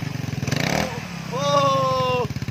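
A Vespa LX 150 automatic scooter with a serviced exhaust idles in throbbing pulses, then revs up loudly for about a second before dropping back, while people talk over it.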